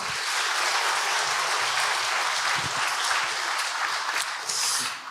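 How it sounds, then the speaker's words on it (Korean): A church congregation claps together as an offering of praise after a children's department special song, a full, sustained round of applause lasting about five seconds with a few louder claps near the end and no talking. "우리 힘차게 하나님께 영광의 박수 한번 드리겠습니다."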